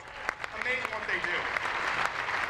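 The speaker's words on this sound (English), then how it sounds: "Folks, give them a round of applause." An audience claps at a comedy show, the applause carrying steadily while a voice speaks over it.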